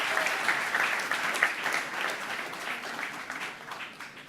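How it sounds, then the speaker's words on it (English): Audience applause for a panel and moderator coming on stage at a creative-hub launch event, a steady wash of clapping throughout with no voices over it. "Please give a big round of applause for them."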